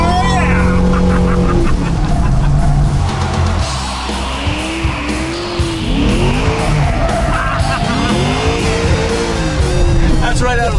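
A loud 1977 Pontiac Trans Am Bandit engine revs and roars as the car launches at about 3,000 to 4,000 RPM, with rising engine pitch and voices talking over the racing noise.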